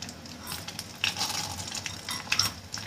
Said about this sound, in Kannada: ಇಲ್ಲಿ ನಾವು ತೊಂಡೆಕಾಯಿ ಪಲ್ಯಕ್ಕೆ ಒಗ್ಗರಣೆ ಮಾಡ್ಕೊಳ್ಳೋಣ.